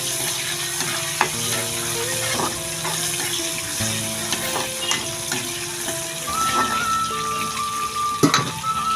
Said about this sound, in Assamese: পিঁয়াজটো অলপ ভাজি ল'লোঁ।